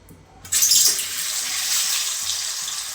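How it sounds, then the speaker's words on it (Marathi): Steady broadband sizzling of potatoes frying in plenty of hot oil, starting abruptly as they hit the pan and continuing loud and even throughout, with no voices. "याच्यामध्ये आपण आता हे बटाटे फ्राय करून घ्यायचे"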